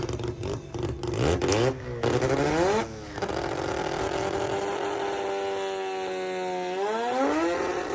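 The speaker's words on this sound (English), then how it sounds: "They're doing their burnouts." A VW Beetle revs hard during burnouts at a Bug Out car show in St. Croix. The loud engine rises and falls in pitch, with sharp bursts of revving early on before a long, sustained high-rev howl.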